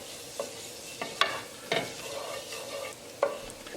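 Curry ingredients, cumin seeds in oil, stirred in a pan: a soft steady sizzle with several sharp scrapes and clinks of the spoon against the pan, close and moderately quiet, with no talking.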